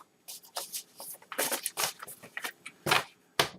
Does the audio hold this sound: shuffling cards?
yes